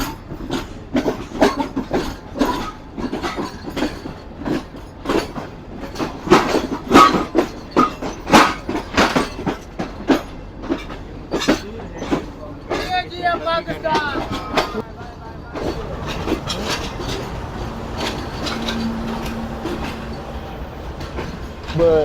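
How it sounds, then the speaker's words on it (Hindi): A passenger train pulling out of Karachi Cantt railway station, bound toward the Thar Desert and the Indian border, with loud rhythmic clacking and rattling of the carriages that settles into a steady rumble with occasional squeals. "देखना ये है कि ट्रेन हमारी निकल तो गई है"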